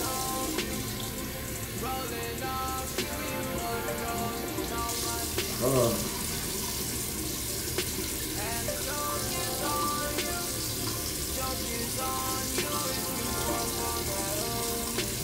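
Tap water runs steadily and hisses into a basin, with splashing and shifting flow as hair is wetted under the stream.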